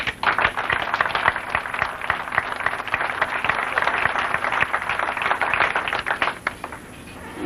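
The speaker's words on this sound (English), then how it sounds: "Let's have a round of applause for our staff." Scattered clapping from an audience at a live comedy show rolls on steadily for several seconds, a dense patter of hands that thins out toward the end.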